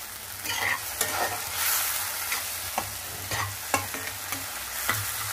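Gongura leaves frying in a pan, sizzling steadily while a spoon stirs and scrapes them with sharp clacks about once a second, close and alone without talk.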